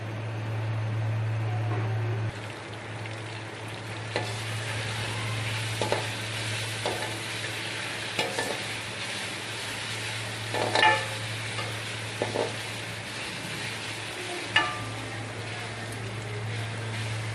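Minced keema frying in a pan, a steady sizzle with stirring scrapes and occasional clinks of a utensil against the pan over a constant low hum, with no voices.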